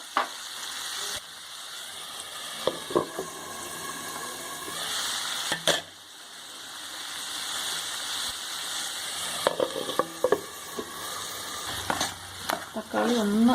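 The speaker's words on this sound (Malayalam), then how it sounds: "നന്നായിട്ടൊന്ന് മിക്സ് ചെയ്തിട്ട് ഒരു 5 മിനിറ്റോളം മീഡിയം ഫ്ലെയിമിൽ വെച്ചൊന്ന് അടച്ച് വെച്ച് വേവിക്കണം." Mixed vegetables with tomato and salt cook for theeyal in a pan over a medium flame, a steady soft sizzle broken by occasional clinks and scrapes of stirring nearby.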